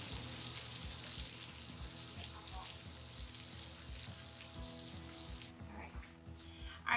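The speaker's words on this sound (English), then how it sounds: "So we're gonna just throw these on the grill top." Caribbean beef burger patties sizzling on a grill top, a steady close hiss and crackle of frying that keeps going for several seconds before quieting near the end.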